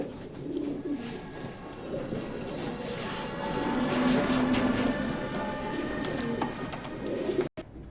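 A male and female pair of racing pigeons in a loft coo softly and near, with low repeated throaty calls over a steady background hum.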